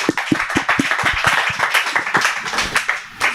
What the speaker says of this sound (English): a round of applause for yourselves in the audience